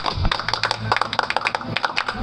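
A group of people clapping together, a quick run of sharp claps in an irregular rhythm, close and loud over faint background chatter.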